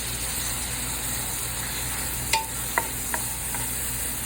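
Mushrooms stir-fried in a pan for chicken macaroni, a steady loud sizzle with a few sharp utensil scrapes and clinks against the pan partway through.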